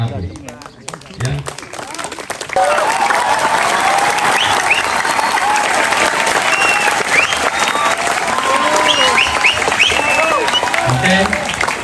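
An audience at a political dialogue event breaks into sustained applause, dense crowd clapping that swells after a brief quieter start and continues steadily, with a voice speaking faintly at the beginning.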